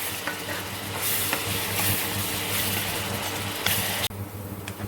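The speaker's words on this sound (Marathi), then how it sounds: "आता आपण चांगला कांदा परतून घेऊया।" Onions sautéing in a pan for a home-style egg biryani, a steady close sizzle with stirring scrapes throughout and a brief sharp clatter near the end, with no talking.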